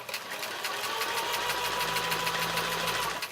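A sewing machine stitches a seam on an uneven nine-patch quilt block, a rapid, even mechanical whirring with fast needle ticks that runs steadily and close by throughout.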